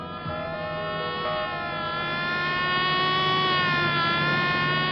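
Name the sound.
siren wailing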